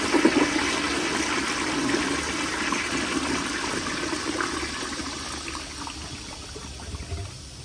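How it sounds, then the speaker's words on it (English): A 1951 Crane Santon toilet flushing alone, opening with a strong rushing surge of water that settles into a gurgling drain and a quieter trickling refill. "alrighty, here's the flush"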